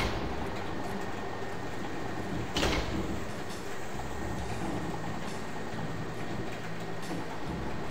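Tram car climbing up a mountain in the video game Vampire: Bloodlines, a steady rumbling mechanical ride with rattling, a brief clunk, and a continuous drone, heard alone without talk.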